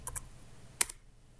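A computer keyboard typing into the Windows 10 search box, heard as two quick key taps and then a single sharper tap, close by and quiet against a low room hum.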